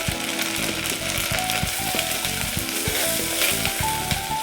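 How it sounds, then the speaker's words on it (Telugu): Ginger garlic paste fries in a pan with spices while making kaju paneer curry, giving a steady close sizzle with scraping stirring clicks throughout. "పచ్చి వాసన పోయే వరకు అల్లం వెల్లిపాయ ఫ్రై చేసుకోవాలి"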